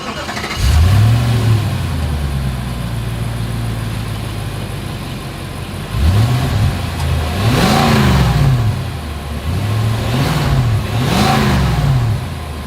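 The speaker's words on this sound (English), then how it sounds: "As always, here is that exhaust clip." 2023 Nissan Armada with a single exhaust starts up and settles to idle, then is revved repeatedly in several rising-and-falling blips, heard close from the rear with no talking.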